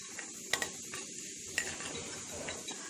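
Fennel seeds crackle in hot oil in a pan, a low, steady sizzle broken by a few sharp pops and light stirring clicks, fairly quiet and close, with no voices.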